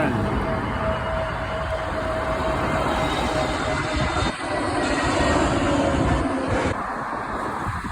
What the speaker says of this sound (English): Whoa, it's a huge plane.